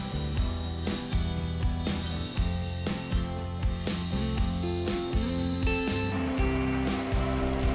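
Router bit milling gummy wood on a homemade router table, a loud continuous whirring grind with repeated rasping pulses as chips are cut in passes, steady and close throughout.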